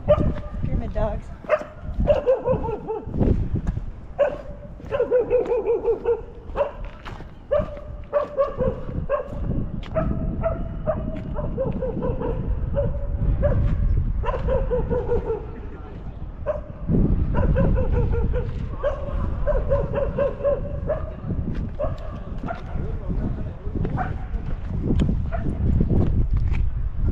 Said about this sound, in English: Pyramid dogs.